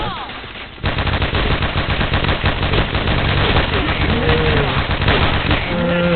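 Rapid bursts of automatic gunfire from the Point Blank shooter game rattle loudly and continuously after a short quieter opening, with some brief tonal game effects underneath.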